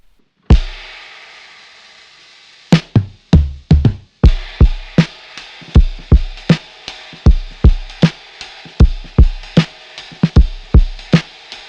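A cymbal on a lo-fi drum kit, recorded through a vintage compressor, is struck repeatedly, one crash alone and then a steady series of sharp hits, each decaying quickly.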